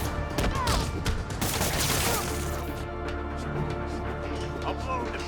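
Rapid bursts of gunfire crackle in the Marvel's Spider-Man video game, dense and loud for the first few seconds, then thinning into scattered shots under game dialogue.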